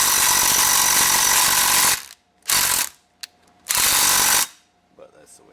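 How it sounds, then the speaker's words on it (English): A hole in a 1996 Ford Powerstroke is tapped out to 1/4-inch pipe thread with a loud, close power tool that runs for about two seconds, then fires in two shorter bursts with a brief tap between them, before fading to quiet. "I'm going to tap that sucker out to a 1/4 inch pipe thread"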